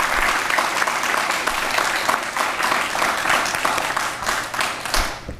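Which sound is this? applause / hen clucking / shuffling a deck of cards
applause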